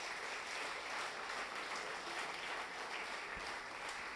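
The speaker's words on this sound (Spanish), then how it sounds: "Aplauda al Señor esta mañana" A church congregation applauds during a Sunday morning service, a steady, even wash of clapping from many hands that carries on throughout, heard at a distance and fairly faint.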